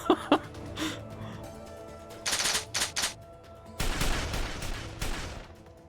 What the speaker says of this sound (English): A volley of gunfire erupted from the rest of the soldiers nearby.